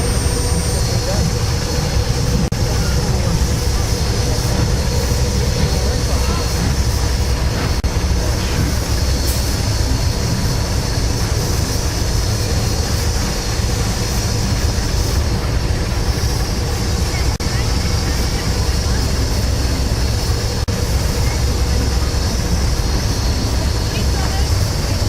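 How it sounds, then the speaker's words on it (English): Locomotive 3526 rolls forward on a New South Wales line to let more passengers off, a steady loud rumble of engine and rail noise running throughout without pause. "3526 is now going forward to let more passengers off the train."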